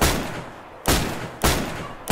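Three sharp, loud gunshots from the DayZ video game, spaced roughly half a second apart, each ringing out with a decaying tail, no talking.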